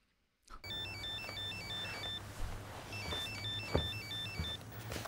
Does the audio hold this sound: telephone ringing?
yes